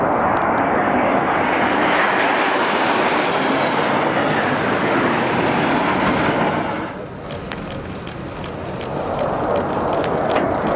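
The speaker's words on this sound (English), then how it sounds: "We have two Russian Su-24s currently conducting multiple passes at CPAs of 75 feet." Two Russian Su-24 jets make repeated close passes over a ship at sea, producing a loud continuous engine roar that dips briefly and then swells again as another pass approaches.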